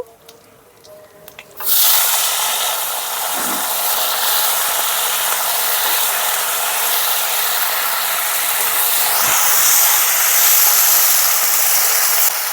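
Cut potatoes and cauliflower frying in a pan with dried red chili, bay leaf and whole cumin for a Bengali cauliflower fish curry, a loud, steady broadband sizzle that bursts in after a quiet start and holds to the end.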